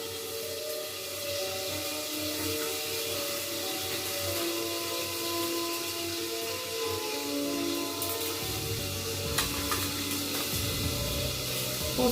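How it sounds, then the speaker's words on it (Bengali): Fish frying in oil in a wok during preparation of dahi katla, a steady soft sizzle running throughout, growing louder and busier toward the end. "কড়াই মাছ ভাজা চলছে"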